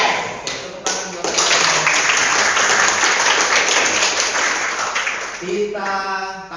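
A school class bursts into loud, dense applause, with a few scattered claps leading into sustained clapping that fades into a voice speaking at the end.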